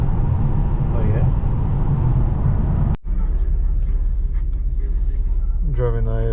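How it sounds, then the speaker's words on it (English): A Lexus IS300 drives along a city road at sunset, its steady low engine and road rumble continuous throughout, briefly cut near the middle, with someone talking over it. "I'm driving the IS to work today."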